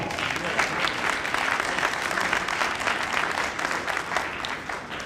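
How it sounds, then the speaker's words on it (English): A university commencement ceremony audience gives a sustained round of applause, a dense, even wash of many hands clapping, fairly distant and moderate in level, continuing steadily for about five seconds. "please give him a round of applause"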